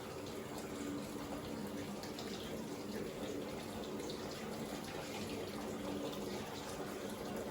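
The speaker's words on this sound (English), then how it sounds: "I'm going to go ahead and start by turning on the water, and your water needs to be hot." Hot water runs steadily from a tap into a tub for laundry stripping, a continuous even rush of splashing water that stays close and constant throughout.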